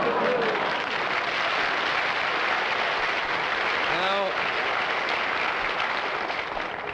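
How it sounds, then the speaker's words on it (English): Sustained studio audience applause on a 1959 television game show, loud and dense clapping throughout, with a brief voice rising over it partway through. "I don't know why you applaud"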